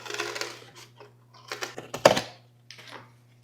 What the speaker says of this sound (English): And now I'm gonna cut out some petal shapes.